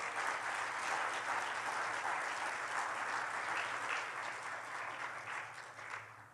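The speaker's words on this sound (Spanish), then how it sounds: "Dele el aplauso." Steady applause from a church congregation at a Spanish-language service, a dense, even patter of many hands clapping throughout before tapering slightly at the end.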